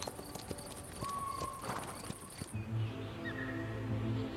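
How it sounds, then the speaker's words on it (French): Pottok horses in the Basque mountains, their hooves clopping in a quick irregular run over ground, moderately close, fading out midway into quieter outdoor ambience with faint low rumble. "Les Potioks continuent aujourd'hui à imprimer de leurs sabots nos montagnes"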